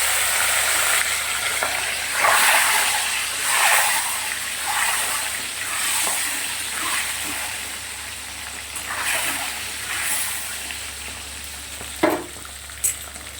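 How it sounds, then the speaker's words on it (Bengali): Boiled eggs frying in oil in a pan, a continuous loud close sizzle with stirring and a few sharp pops near the end, no talking. "চলো আগে ডিমগুলো ভেজে নিই।"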